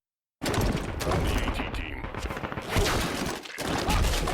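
Dense, continuous gunfire from the war film Fallout Operation: Sunburst, with loud overlapping shots forming a sustained fusillade and brief dips in intensity.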